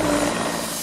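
Helicopter rotor and engine noise, a loud, steady, dense roar heard very briefly and close.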